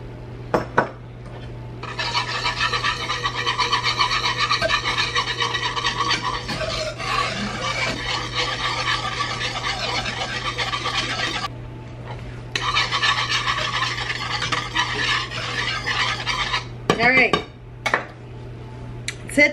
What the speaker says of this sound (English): Stir this gravy.